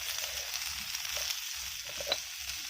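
Boiled taro pieces stirred in a frying pan sizzle steadily up close, with soft scraping strokes of a spatula repeating through the short stretch and no talking.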